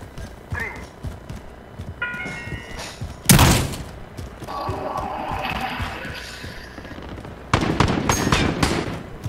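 Gunfire in Call of Duty Warzone, scattered bursts and sharp cracks with one loud blast near the middle and a dense volley toward the end, under faint voices.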